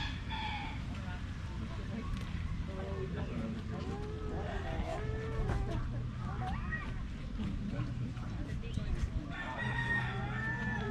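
Chickens cluck and a rooster crows at a Kauai luau imu pit, pitched calls rising and falling over steady crowd talk and background murmur, with a stretch of crowing calls near the end.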